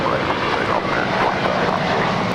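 An American Airlines jet departs runway 25 right at Los Angeles International, its engines producing a loud, steady broadband roar that fills the entire clip.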